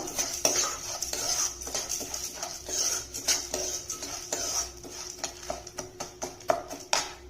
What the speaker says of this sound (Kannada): ಮೊದಲು ಕಡಲೆಬೇಳೆನ ಸ್ವಲ್ಪ ಹುರ್ಕೋಬೇಕು.